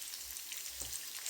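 Chicken curry with masala simmering in a pan gives off a faint, steady sizzling hiss, low and continuous with no talking.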